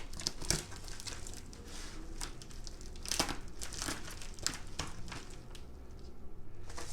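Packaging of an MJJC Foam Cannon PRO is opened up close, with steady crinkling and rustling of wrapping and cardboard and a few sharper crackles throughout, no voices.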